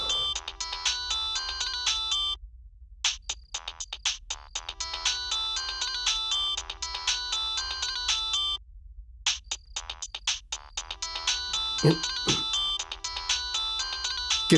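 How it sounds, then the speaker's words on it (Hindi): A loud electronic phone ringtone plays a repeating melodic pattern, pausing briefly between cycles and continuing on. "किसका फोन बज रहा है"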